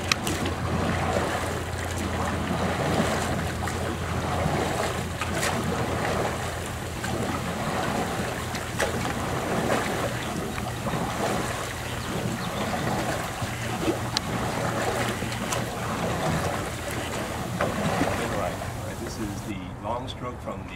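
A rowing boat is worked with long oar strokes from the rear position, giving repeated splashes and water swishes in a regular rhythm over steady outdoor noise, with voices talking over much of it.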